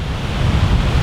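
Ocean surf washes onto a sandy beach with piers nearby as the tide comes in, a steady, loud broadband rush with gusts of wind buffeting the microphone throughout.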